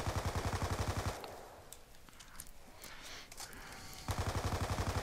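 Rapid automatic gunfire from Black Ops 2 Zombies on the Farm map, loud and dense bursts at the start and again at the end, with a quieter stretch of scattered distant shots and game noise between.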